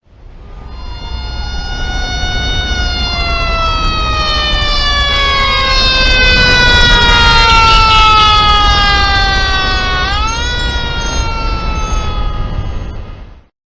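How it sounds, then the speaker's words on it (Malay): A fire engine siren wails loudly with rich harmonics as the engine speeds along a road, its pitch slowly sliding as it passes, then dropping sharply near the end before fading. "Dan siren sebuah kereta bomba semasa ia bergerak dengan laju di sebatang"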